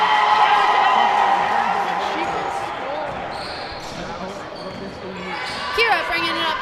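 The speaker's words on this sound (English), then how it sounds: "I hope you can hear all that cheering from the Kings fans." Kings fans cheer and whoop at a women's varsity basketball game in 2021, a broad roaring crowd that swells and fades with ball bounces and squeaks audible, while an announcer talks over it.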